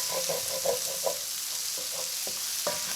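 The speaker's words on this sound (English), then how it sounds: "I'll have to add in the diced tomatoes now" Diced tomatoes go into a pan of frying butter chicken sauce with softened onions, giving a soft continuous sizzle broken by several short stirring scrapes and clinks, fairly quiet and close.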